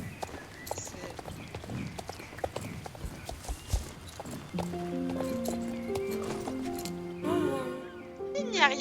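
Horse hooves clip-clop in the video game Star Stable Online, sharp repeated beats over someone talking, followed by tonal game music notes and a short whinny-like sweep.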